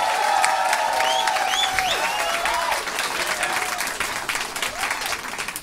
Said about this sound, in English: And start the clapping now. And whoop and cheer as well. And stamp your feet.